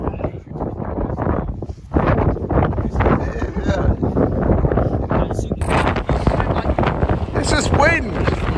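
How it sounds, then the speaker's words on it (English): Gusty wind buffets the microphone on an open Peak District hillside, a steady low roar with rushing swells throughout, while people talk over it. "It's just wind!"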